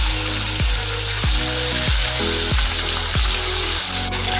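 Amudi fish sizzling in hot oil in a wok, a loud, dense, continuous frying hiss with repeated soft thumps at regular intervals and no talk.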